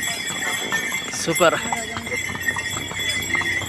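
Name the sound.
horse hooves clip-clopping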